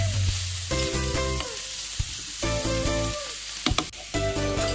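Shrimp stir-frying with onion and garlic in a pan, a close sizzle broken by clattering spatula strokes and tonal metallic scrapes in short bursts, no speech.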